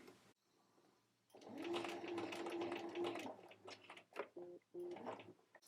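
Sewing machine running in bursts while stitching a tiny hem on a jacket, a steady whirring hum that starts, runs for about two seconds, then stops and restarts in short spurts, close and moderately loud.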